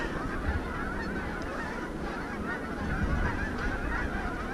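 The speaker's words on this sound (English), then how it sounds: "These are a bunch of Canadian geese. Do you hear those?" Canada geese honk continuously along a river walk in Canon City, Colorado, a dense chorus of overlapping calls at moderate distance, steady throughout.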